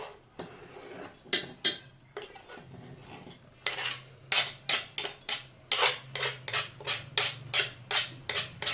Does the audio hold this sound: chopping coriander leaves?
yes